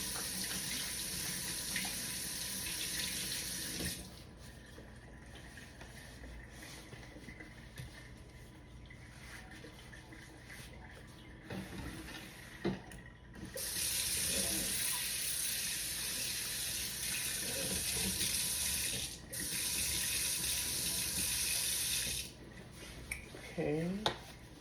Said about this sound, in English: Always rinse your vegetables off.